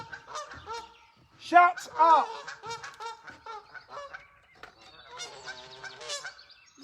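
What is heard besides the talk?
geese honking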